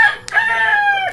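A young gamecock rooster (stag) crows once, close and loud, a drawn-out slightly ragged call with a brief click partway through.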